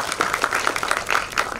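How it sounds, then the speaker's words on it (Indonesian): Audience applause at an Indonesian youth climate-action panel session, with a dense crowd of hands clapping continuously and fairly close throughout. "Tepuk tangan dong teman-teman semua"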